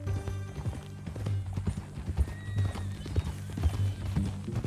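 Horse hooves clip-clop at a steady walking pace in Red Dead Redemption 2, close and moderately quiet, with faint game ambience and no talking.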